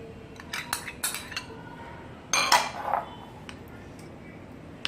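A spoon clinking against a bowl while dahi vada, potato and chaat are mixed with yogurt: a handful of light, close metallic taps and scrapes, with a louder cluster in the middle, over faint background hiss and no talking.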